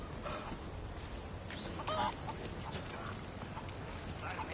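Faint chicken clucking comes through a dense in-game soundscape in Resident Evil 4 Remake, with brief squawk-like calls.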